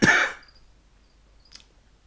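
A single sharp cough bursts out close and loud at the start, then fades into near silence with a faint small noise later on.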